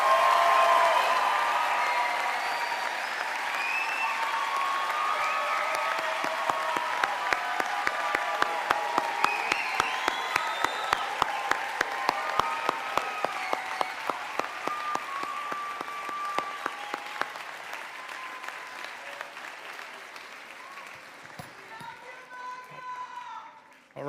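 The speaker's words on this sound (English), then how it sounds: "please join me in giving our class of 2025 another round of applause" A large commencement audience applauds the graduating class of 2025 at a college ceremony, a long dense roar of clapping with cheers and whoops, steady and loud before gradually thinning out toward the end.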